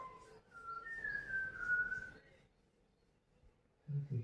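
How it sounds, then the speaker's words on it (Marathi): A clear, melodious whistled song of a Malabar whistling thrush from a deep Sahyadri valley, with gliding, rising and falling notes for about two seconds, then quiet before a low thump at the end. "सह्याद्रीच्या खोल दरीतून शिळ कस्तुराची सुरेल शीळ कानावर पडते आहे."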